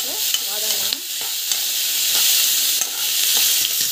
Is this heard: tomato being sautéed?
yes